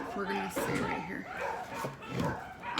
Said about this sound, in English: Sorry about the dogs. They decided to go out there and bark.